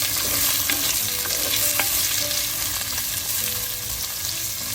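Onions and slit green chillies frying in oil for a mutton curry, giving a loud, dense, continuous sizzle close by with occasional soft stirring scrapes and no talking.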